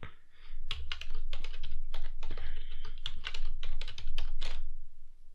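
A password typed on a computer keyboard while setting up a Windows Server, a close, steady run of clicking keystrokes in uneven bursts with no talking.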